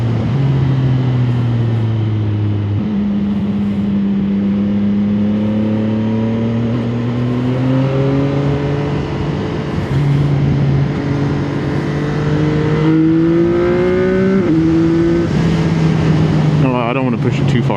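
CFMOTO 675SS motorcycle ridden hard, its engine loud and close, climbing in pitch through several gear shifts with a sharp rev and pop near the end, under constant wind roar.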